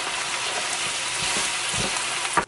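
Empanada filling with taco seasoning sizzles steadily in a hot pan while being stirred, with soft scraping strokes and a brief clatter at the end.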